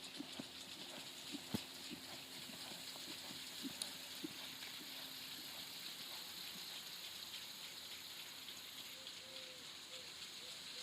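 A horse lopes through barrel-racing practice, its hoofbeats a steady, rhythmic clip-clop, fairly soft and even throughout, with a faint outdoor hiss behind and no talking.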